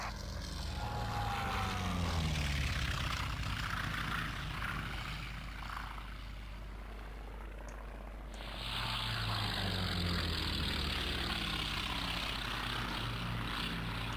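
Droning dive bomber propeller engines in a video game roar steadily, dipping briefly in the middle before surging back, with no voices over the mechanical hum.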